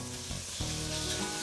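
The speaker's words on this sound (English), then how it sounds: "Sizzling." Ingredients sizzling and frying in a kitchen pan, a steady close crackling hiss with a slight stirring scrape partway through.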